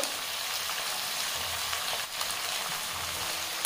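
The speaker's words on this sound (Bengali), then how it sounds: "এবারে এই সমস্ত সবজি ভালোভাবে ভেজে নেব।" Onion greens and tomato fry in a pan with salt, a steady close sizzling hiss that stays even throughout.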